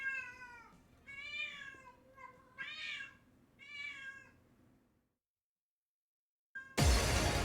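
A house cat meows loudly and insistently, four drawn-out yowls in quick succession nearby, then a pause before a sudden loud burst of noise at the end.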